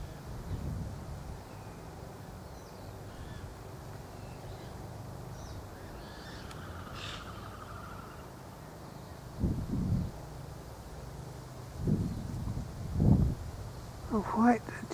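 Steady outdoor wind blowing as a constant broadband rush behind white-cheeked honeyeaters feeding at a nectar bottle, with a few brief bird calls and bumps near the end.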